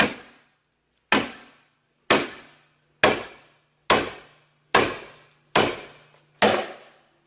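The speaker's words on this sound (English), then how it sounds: "I now have my pickle fork and my sledge, and probably just take a couple of quick taps" A sledgehammer strikes a steel pickle fork to pop a ball joint on a C4 Corvette: eight sharp, evenly spaced metallic blows about a second apart, each ringing out briefly, close and loud with no talk.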